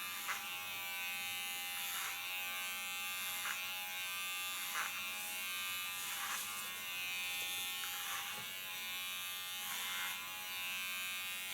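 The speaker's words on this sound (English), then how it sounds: "start with a large Kiona clipper, this one." Large Kiona electric hair clipper cutting strong hair: a steady close high-pitched motor buzz throughout, with periodic brief rasping surges as the blades pass through the hair.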